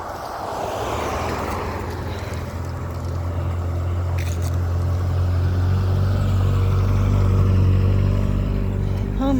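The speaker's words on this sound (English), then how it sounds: "would you look at all the traffic today?" Steady low rumble of road traffic heard outdoors while walking, with vehicle engines droning continuously and building louder toward the end as cars pass close by.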